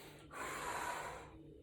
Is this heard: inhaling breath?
yes